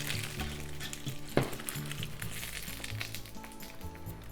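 A steady sizzle of shrimp and coriander gyoza frying in a pan, with a brief clatter partway through and a low hum underneath.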